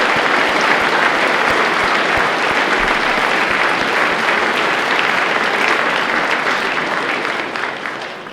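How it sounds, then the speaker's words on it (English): Sustained audience applause at a cadet colonel promotion ceremony, dense steady clapping from a large crowd that holds for several seconds and tapers slightly at the end. "Let's give them a round of applause."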